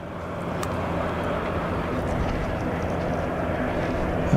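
An Airbus A330 at Zurich Kloten Airport, a broad, steady jet roar that stays loud and constant throughout, heard from a distance in the open.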